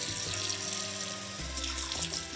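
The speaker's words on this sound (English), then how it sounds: "we're gonna wash it in water first, just to get any of the superficial blood or anything like that" Iguana meat is rinsed under running water in a sink, a continuous close splashing and trickling flow with shifting tone as the meat is moved about.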